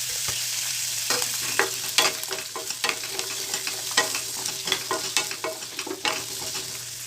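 Garlic cloves frying in a pan for vallarai keerai thuvaiyal, a steady sizzle broken by repeated scraping stirs and small clinks, close and moderately loud with no talking.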